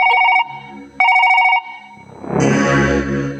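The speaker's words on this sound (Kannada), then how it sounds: "ಸ್ನೇಹಿತ ಫೋನ್ ಮಾಡಿದ್ದಾನೆ." A telephone rings in two loud bursts of bright electronic tones, then gives way to a noisy, jumbled wash of sound.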